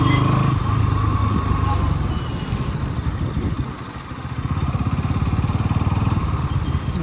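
A 2024 Bajaj NS 200 motorcycle on a city and highway mileage ride, its engine droning loud and close with a steady throbbing pulse, a brief dip near the middle, then a firmer pulse again.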